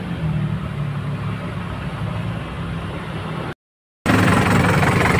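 An Isuzu 4BE1 diesel engine runs steadily after a gearbox oil seal replacement, a loud continuous low idling rumble that cuts out briefly near the end and then resumes at the same level.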